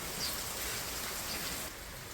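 Steady rain pours down, a dense even hiss filling the scene from start to finish, with no voices.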